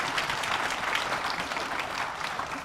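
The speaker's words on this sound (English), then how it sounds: "Round of applause for all the presenters." Audience at a chamber of commerce breakfast forum on workforce issues gives the presenters a round of applause, a steady, even wash of many hands clapping with no one speaking.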